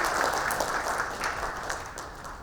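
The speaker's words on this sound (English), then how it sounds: "Again, a big round of applause." Auditorium audience clapping at a national CSR summit inauguration, a dense, even wash of applause that starts strong and tapers slightly toward the end.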